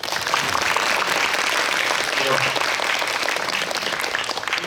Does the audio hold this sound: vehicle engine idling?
no